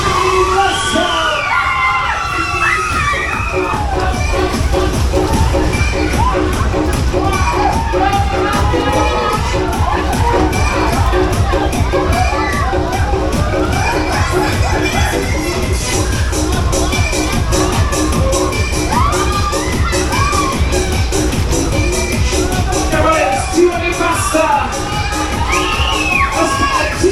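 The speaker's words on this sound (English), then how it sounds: "Somebody scream, let's go!" A big funfair crowd screams and cheers at a show, a loud, dense, continuous roar of shrieks, yells and whoops, many of them children, holding steady for the full stretch.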